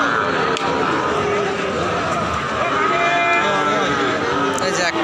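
Cattle at a busy cow market near the India border in Bangladesh, with low lowing and moos mixed into a constant crowd hubbub and nearby talk.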